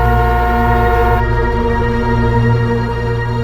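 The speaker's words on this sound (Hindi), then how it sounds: "वो वायरिंग में खराबी होगी तो हॉर्न अपने आप बजने लगा" A loud, continuous car horn blares steadily and without a break, sounding by itself from a wiring fault, close and harsh, drowning out everything else.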